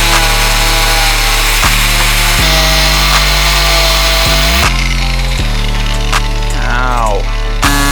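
An off-road Toyota's tire rubs against the body while crawling over rough terrain, a harsh grinding scrape under a loud, droning engine whose pitch rises and falls in steps.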